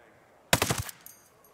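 A short, rapid burst of automatic gunfire in the video game Ghost Recon Breakpoint, loud and close, dying away into faint echoing tails.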